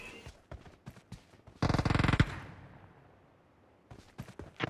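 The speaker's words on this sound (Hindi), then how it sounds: "पे बैठ के, गोलियां चला रहा बार बार।" Sharp bursts of BGMI video game gunfire: scattered single shots, then a rapid automatic volley, a fading tail, and more quick shots.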